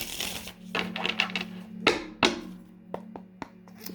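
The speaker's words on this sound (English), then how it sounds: "Shuffle this deck here really quick." Crisp riffling and slapping of tarot cards being shuffled close by, with a few sharp taps as the deck is squared, over a low steady hum.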